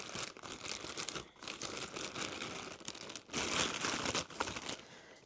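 A plastic airport bag holding a few items crinkles and rustles continuously up close, with bursts of louder crumpling as it is handled.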